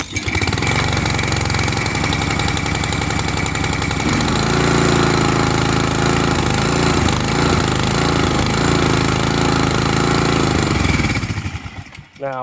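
A petrol pressure washer engine with a cracked pump runs loud and close, a steady buzzing drone whose pitch shifts slightly midway before it cuts out near the end.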